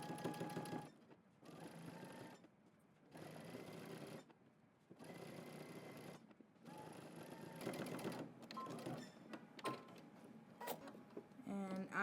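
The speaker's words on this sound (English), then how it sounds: "let's go to the sewing machine. We're going to edge stitch all the way around." A sewing machine edge stitches around a jacket, starting with a backstitch, in repeated bursts of steady motor whir separated by brief pauses, with a voice talking between the runs.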